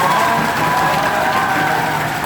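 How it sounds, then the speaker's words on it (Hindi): Audience applause and cheering fill the hall for a student at a coaching class event, loud and steady throughout with a few shouts mixed in. "और एक बार फिर जोरदार तालियां इस भाई के लिए।"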